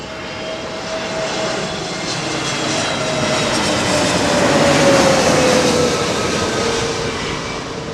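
A passenger aircraft's engines roar loudly and steadily at London Heathrow Airport, a broad rushing drone with a faint rising whine that swells and eases as the plane passes.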